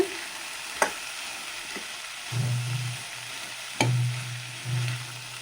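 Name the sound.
mixing chickpea usli with coconut and coriander in pan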